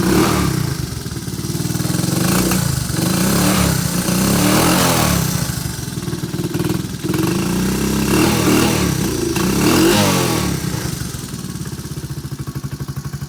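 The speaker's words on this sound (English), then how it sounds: "Give it a little rev." A classic Honda Fourtrax TRX 125 ATV engine idles close by and is revved several times, the single-cylinder putter rising and falling in repeated swells before settling back to idle.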